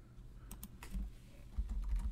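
A computer keyboard is typed on in a short run of light, uneven keystrokes, close and fairly quiet, with a low background hum and no speech.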